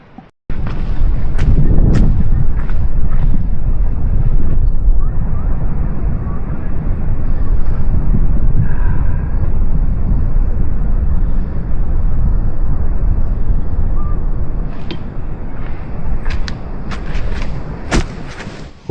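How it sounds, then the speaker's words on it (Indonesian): Heavy rain pouring steadily at Surumanis beach in Kebumen, Central Java, a loud continuous roar of falling water broken by occasional sharp taps and knocks close by. "Kami nikmati sejenak hujan ini."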